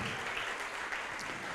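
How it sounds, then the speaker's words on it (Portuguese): A church congregation claps steadily in a dense, continuous wash of applause that holds evenly from start to finish, with no clear voices over it. "Vamos aplaudir mais ao nome de Jesus."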